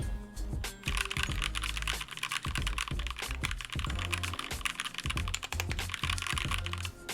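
Steady, fast typing on a Tofu 65 mechanical keyboard fitted with a polycarbonate plate and Gateron Yellow linear switches, close and loud, with crisp keystrokes and deeper thocks from larger keys, no voices.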